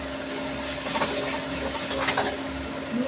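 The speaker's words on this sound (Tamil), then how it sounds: "நல்லா பச்சை வாசனை போகிற வரைக்கும் ஒரு 2 செகண்ட் நல்லா வதக்கி விட்டுருங்க." Ingredients sauté in a hot pan with a dense, continuous sizzle that stays loud and even throughout, with no voices.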